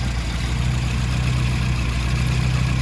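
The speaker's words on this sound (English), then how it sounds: "Nice original 850 engine." An original 850 engine in a classic Mini with its original carburettor idles steadily, a constant close mechanical hum with a low even throb and no change in pace.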